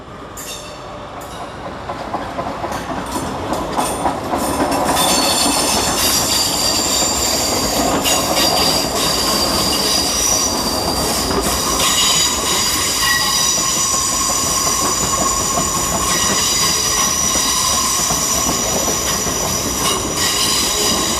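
A Great Western Railway Class 800 train, unit 800 312, pulls into London Paddington to terminate from Old Oak Depot, its wheels squealing and rumbling loudly and continuously as it rolls in and slows.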